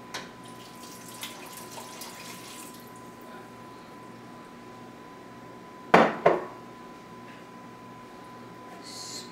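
Water runs and splashes from a kitchen tap into a pot of tomato sauce and beans, with a couple of sharp clanks of pot or utensil near the middle.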